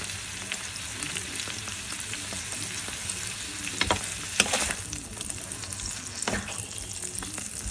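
Garlic frying in a pan for garlic butter shrimp, a steady close sizzle with a few stirring scrapes, and a voice briefly speaks once.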